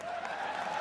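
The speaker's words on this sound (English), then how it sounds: "What are you clapping for?" Brief burst of audience clapping from a crowd, steady and fairly loud for under a second, with no voices on top.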